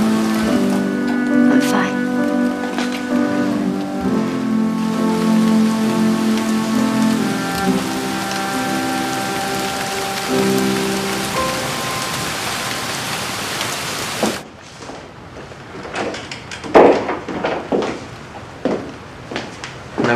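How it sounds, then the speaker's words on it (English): Rain falling outdoors hisses and patters steadily in the second half, with a few sharper drops standing out, after a stretch of sustained tonal sound. "But it's raining outside."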